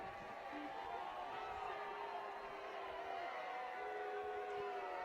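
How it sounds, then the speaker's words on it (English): A high school football crowd at an Eastmont game against Moses Lake reacts unhappily to a pass interference call, a distant, sustained murmur of voices and jeers, faint and blended. "And the Eastmont crowd not happy with the pass interference call."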